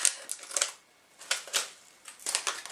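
Scissors snip open a Flying Tiger candy packet at close range, giving three short bursts of crisp cutting and crinkling plastic separated by brief pauses, with no talking.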